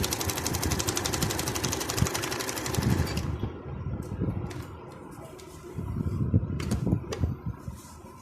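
A sewing machine stitches mesh into a poncho, a rapid continuous whirring run for about three seconds, then quieter intermittent mechanical clicks and short bursts of stitching, close by.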